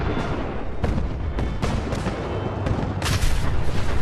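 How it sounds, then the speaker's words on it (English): Rumbling blasts from a settlement being nuked in Fallout 4, a series of broad booming impacts roughly every half second, growing heavier and denser near the end, loud and continuous with no talking. "the entire settlement is being nuked before the import, which is a neat feature"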